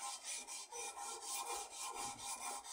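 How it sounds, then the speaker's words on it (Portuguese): Wooden ionic rods are sanded by hand with new sandpaper, giving a rhythmic, close back-and-forth rasping of about ten strokes in quick succession. "E a lixa nova, o que que faz? Ela gasta rápido, afina logo as varetas."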